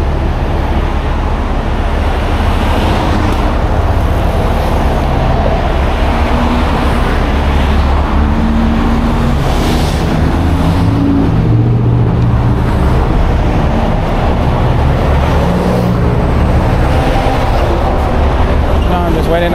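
Steady freeway traffic after a road reopening, a dense, loud, continuous roar of vehicles rushing past close by for the whole stretch, with indistinct voices mixed in underneath.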